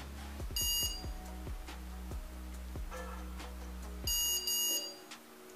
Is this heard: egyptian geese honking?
no